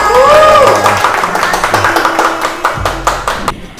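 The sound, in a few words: clapping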